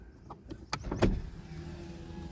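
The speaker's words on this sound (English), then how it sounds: "all the windows roll up and down." Power window motor on a Mitsubishi Galant whining briefly as the glass moves, a short rising electric hum around the middle of the clip, close up inside a quiet car with a few small clicks and thumps.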